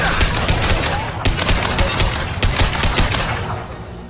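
Gunfire in the video game Mass Effect 2: rapid bursts of automatic weapon fire crackle in quick volleys, with two sharp louder bursts standing out from a steady, close barrage.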